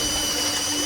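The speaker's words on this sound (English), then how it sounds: "We're using the file." Steady, harsh metallic rasping of a hand file on four-wheeler metal parts, a continuous grinding scrape close by with a faint whine running underneath.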